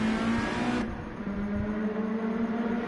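Race car engine in a Miata racing game at the Nürburgring GP circuit, pulling out of the pits onto dry tyres: a steady, loud mid-pitched drone that holds level and shifts tone slightly partway through.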